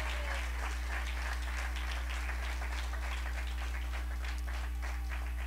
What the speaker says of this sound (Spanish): declárelo con ese aplauso y ese grito